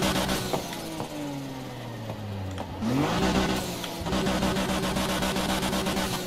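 A Nissan Skyline's engine idles in the racing game Need for Speed Heat. The steady mid-pitched hum is briefly revved partway through, then settles back to a constant drone.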